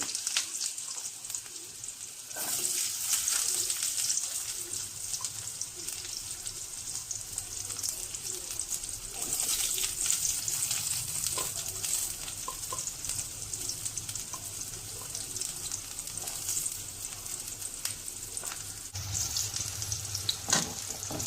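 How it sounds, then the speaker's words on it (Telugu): Chopped onions and green chilies fry in oil with mustard seeds, giving a continuous soft sizzle and crackle, with occasional stirring scrapes over about twenty seconds. "ఎర్రగడ్డలు, పచ్చిమిర్చి వేసాను కదా. కొంచెం ఎర్రగా వేగాక"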